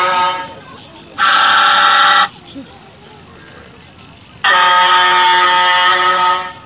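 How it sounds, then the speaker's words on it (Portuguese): A car horn blares twice in long sustained honks, each about a second or more, loud and close, with faint chatter in the pauses between. "buzina"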